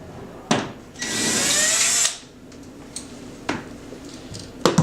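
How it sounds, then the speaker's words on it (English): A screw being driven out of newly mounted drapery hardware with a power drill, heard as one sustained whirring burst of about a second, close and fairly loud, framed by a few sharp clicks and knocks. "We're going to take this screw out."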